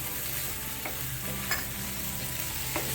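Mixed vegetables for a paneer kathi roll, lightly salted, sauté in a hot pan with a steady low sizzle, while a spatula scrapes and stirs them in a few distinct strokes.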